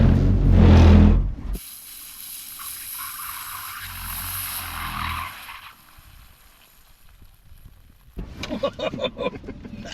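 A 2023 Genesis car in drift mode accelerates on the throttle. A rushing drive noise carries a high whine that rises and then drops away, with a burst of louder, busier sound at the start and end.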